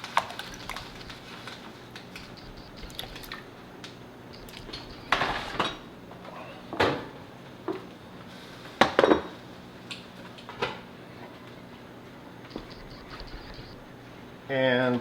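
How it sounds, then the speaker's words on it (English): Pots and utensils clatter while meat is loaded into a pressure cooker for Cuban beef vegetable soup: scattered metallic clinks and knocks over steady kitchen background, with one short burst near the end. "And then we'll put it in the pressure cooker."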